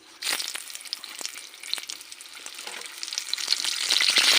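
Chilli bajji fritters sizzle and crackle in hot oil, a steady close frying hiss with scattered pops that builds slightly louder toward the end, with no talking.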